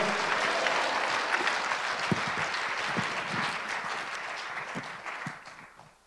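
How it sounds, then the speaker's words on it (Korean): A congregation at a Korean united fasting prayer rally claps steadily to welcome a pastor to the stage, sustained, dense applause filling the hall before tapering off at the end. "큰 박수로 환영하겠습니다"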